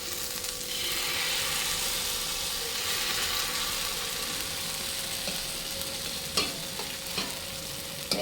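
Rava dosa batter of wheat flour, rice flour and semolina sizzles and crackles on a hot pan, a steady close frying hiss with a few light clinks toward the end.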